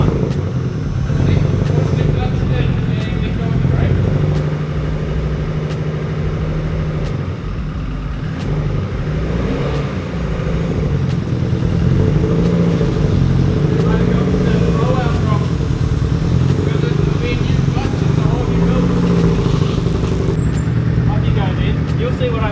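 A Nissan SR20DET turbocharged four-cylinder held at full throttle on a dyno, a loud sustained engine roar with steady rising tones filling the whole stretch, with voices talking over it at times.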